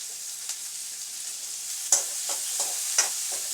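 Chopped onion with salt sautéing in a pan in a home kitchen, a soft continuous sizzle broken by a few louder stirring scrapes.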